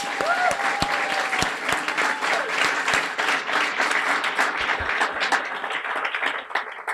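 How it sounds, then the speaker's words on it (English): Audience at a guide dog graduation ceremony breaks into sustained, loud applause, dense clapping from a large crowd continuing throughout with a few sharper individual claps. "Big round of applause for these guys."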